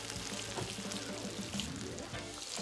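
Steady sizzling and crackling of cabbage frying slowly in butter in a pan, heard up close and fairly soft, with no one speaking.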